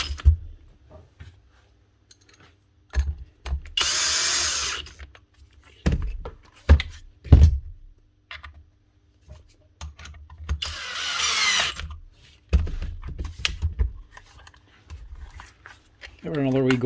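An Arbortech Allsaw mortar saw that won't cut runs in two short bursts of a few seconds each, a harsh high whine amid clunks and handling noises, with people talking between runs.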